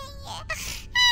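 A game baby in Minecraft cries in high, wavering wails that break off and start again across the moment, fairly loud and close, with no talk over it.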